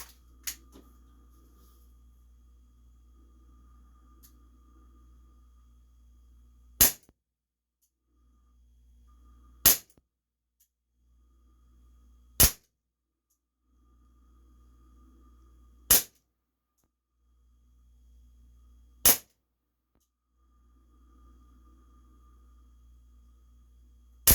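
Umarex Beretta PX4 Storm air pistol firing five sharp, isolated pops spaced a few seconds apart, each crisp and brief, over a faint low hum with no talk.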